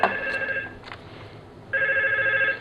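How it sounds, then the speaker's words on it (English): A Yealink T22 office desk phone rings for an incoming call: two bursts of electronic warbling trill separated by a short pause, clear and close with no speech. "wait for your phone to ring"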